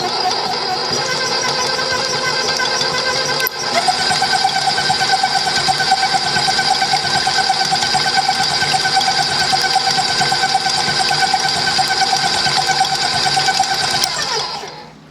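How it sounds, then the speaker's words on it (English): A stand mixer with a paddle attachment blends eggs for zucchini bread, a close, steady electric motor whir that rises slightly after a few seconds and runs evenly before winding down. "We got the paddle on here. We're just going to kind of blend them up and break the eggs up."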